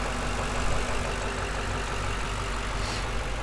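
A stock 2006 Ford Mustang GT V8 idles smoothly and steadily, a continuous low engine rumble heard up close with no other sounds.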